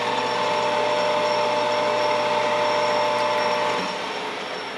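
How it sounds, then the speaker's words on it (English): Metal lathe taking a facing cut on a Mikuni VM carburetor fuel level tool at about 1,000 RPM, a steady close whine and hum that continues throughout and eases slightly near the end. "Let's go ahead and face it off."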